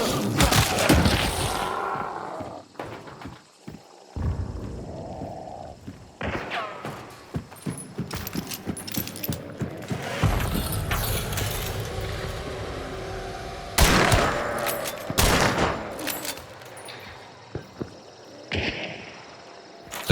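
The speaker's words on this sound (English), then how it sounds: "The shots seem to move to my left." Gunfire in the video game Hunt Showdown, scattered sharp shots and heavy thuds at irregular intervals, some near and loud, others distant, with mechanical clicks between.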